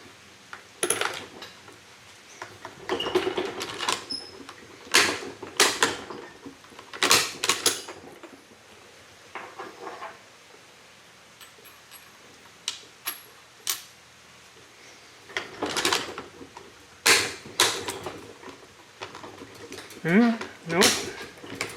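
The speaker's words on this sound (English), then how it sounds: "let's see if our bolt works any better" Bolt of an M27 Finnish rifle being worked by hand, giving a scattered series of sharp metallic clacks and scrapes, some loud, some faint, with occasional talk.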